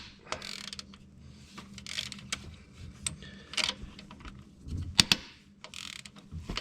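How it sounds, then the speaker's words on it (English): Electric ratchet running out cylinder head bolts on a 2015 Hemi 5.7 engine, short whirring bursts with clicking mechanical ratcheting and metallic taps, close and moderately loud, no voices. "We'll run them off with our electric ratchet just because it's way faster."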